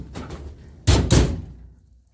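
A DeeZee tool box lid on an M1028A2 CUCV pickup truck shuts and lifts, giving two loud, close metallic thumps about a quarter second apart, with low rumble before and a fading tail after.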